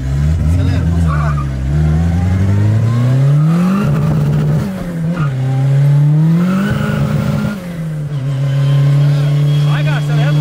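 A VW Gol Turbo accelerates hard through the gears. The loud engine note climbs, drops at each shift and climbs again, heard from inside the car with people talking over it.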